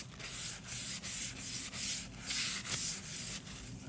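Kitchen knife stroked across a CBN sharpening stone during burr removal, producing rhythmic abrasive rasps roughly every half second, close and clear with no talk.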